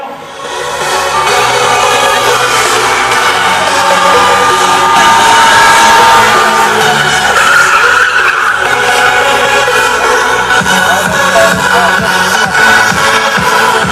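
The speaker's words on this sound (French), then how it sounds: "il va démarrer en marche arrière et voilà, dérapage contrôlé" A monster truck reverses into a controlled skid at a show, its loud engine roaring continuously with tire squeal and skidding noise close by throughout.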